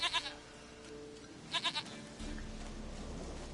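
A goat in The Witcher 3 video game bleats in two short, wavering bursts, one at the start and another a second later, over quiet game ambience.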